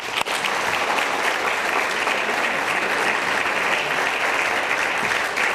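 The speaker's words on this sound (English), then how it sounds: "Let's give them one more round of applause" Steady, full applause from an audience at the 2019 National Forum and Awards Luncheon honoring finalists and awardees, a continuous dense wash of clapping throughout.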